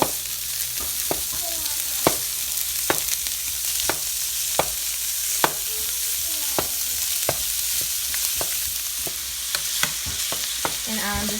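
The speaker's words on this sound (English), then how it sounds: "now I have added in 1 pound of ground beef. I'm just going to spread it out." A pound of ground beef sizzles as it browns in a frying pan on butter, a steady frying hiss broken by sharp, regular scrapes and taps of a utensil spreading the meat.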